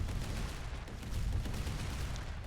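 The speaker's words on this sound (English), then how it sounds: "the cannons seem to do a pretty good job at wrecking" Cannons fire in the tower defense roguelite game Emberward, a dense run of dull overlapping booms and pops, moderately quiet and continuous.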